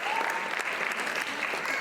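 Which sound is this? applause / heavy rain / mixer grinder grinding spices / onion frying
applause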